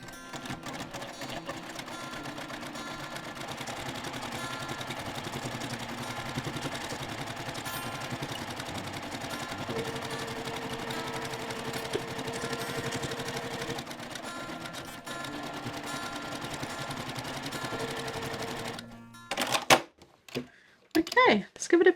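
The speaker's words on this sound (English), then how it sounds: "Sewing with all the same settings, starting off at the very edge and removing my pins as I need to." A sewing machine stitches quilt pieces with a fast continuous mechanical whir that runs unbroken for most of the time, then stops, followed by a few louder clicks and knocks near the end.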